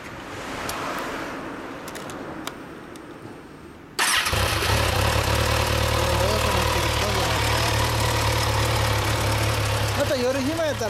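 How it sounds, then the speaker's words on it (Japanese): A 2015 Kawasaki Ninja 1000 motorcycle engine starts after a few seconds of quiet street noise, then settles into a loud, steady, close-up idle with a deep throb and occasional slight revving, over faint talking. "ならエンジン音聞かせてもらえるかな。"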